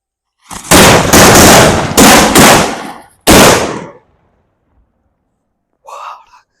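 A string of Valangaiman country firecrackers goes off in loud, rapid crackling bursts close by, then stops abruptly, followed by a brief faint sound.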